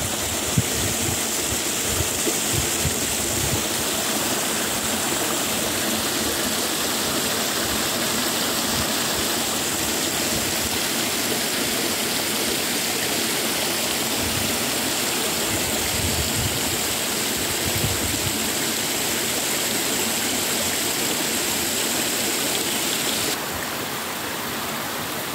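Stream water flows and splashes steadily past the stone arch of Gkoura by terraced ground near Anthiro, a continuous close rushing with no pause, loud and unbroken from start to finish.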